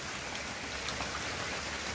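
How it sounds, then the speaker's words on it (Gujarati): Light rain falling steadily at seven in the morning, heard from a rooftop terrace as an even, continuous patter of drops, close and without voices. "અત્યારે વરસાદ હજી ચાલુ જ છે કન્ટિન્યુ, ધીમી ધારે"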